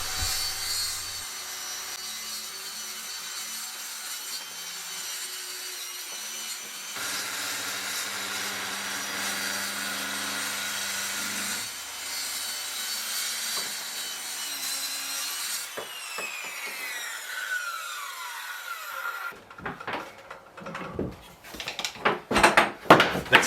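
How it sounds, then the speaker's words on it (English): A power saw guided along a clamped straight edge trims the bottom of wooden gate boards, a steady whining cut that runs long and ends in a burst of louder clattering as the blade finishes. "I clamped the straight edge along the bottom and trimmed the last of the boards off"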